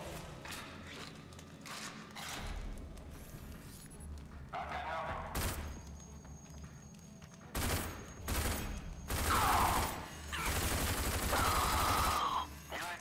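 Machine gun fire in RAGE, several bursts of rapid automatic shots with mechanical weapon clatter between them, fairly loud against a quiet game background.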